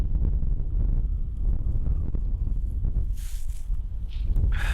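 Steady wind buffets the microphone outdoors in a natural setting, a constant low rumble with faint rustling and a few brief higher hisses near the end, and no voices.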